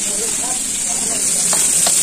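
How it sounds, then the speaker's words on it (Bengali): Food fries on a gas stove with a loud, continuous sizzle, a steady bright hiss punctuated by a couple of sharper crackles near the end. "ভালোই ভালোই ভাজা হচ্ছে"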